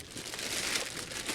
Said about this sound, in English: if we get to the headphones themselves, come inside of this plastic bag